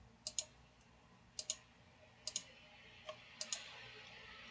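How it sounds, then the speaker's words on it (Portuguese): Mouse clicks adding rows to a table in linear actuator design software, about six sharp, faint clicks, some in quick doubles, spaced roughly a second apart over a quiet room hum. "eu vou clicar para adicionar linhas"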